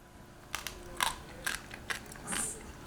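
Crunchy bites into a fried Louisiana bullfrog leg, several crisp close-up crunches spaced roughly half a second apart, followed by a softer chewing rustle, with no talking over them.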